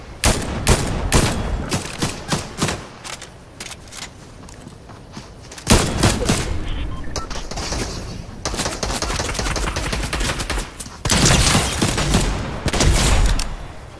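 A firefight rages in the video game Fortnite, with loud, dense bursts of rapid gunfire and clattering shots that come in clusters, pause briefly, then surge again close up.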